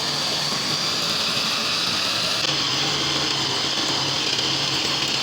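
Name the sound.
electric chopper grinding spiced minced meat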